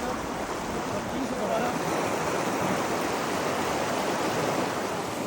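Cold snowmelt water in a mountain stream near the South St Vrain trailhead rushes in a steady, even broadband roar that stays loud and unbroken throughout.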